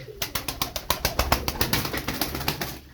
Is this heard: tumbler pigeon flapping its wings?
yes